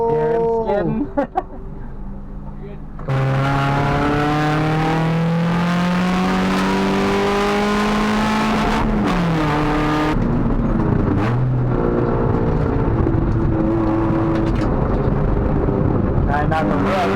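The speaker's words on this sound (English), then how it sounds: "Hear him skidding." A Honda Civic EG race car with a B18B1 engine skids round a track during a track day. Its engine drones loud and near, rising and falling in pitch as it revs through the slide.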